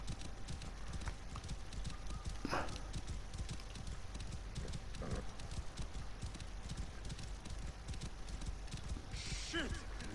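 Horse hooves clip-clop steadily in Assassin's Creed Origins, a continuous rhythmic trot over the game's ambient sound, with a couple of brief whinnies and a faint voice in places.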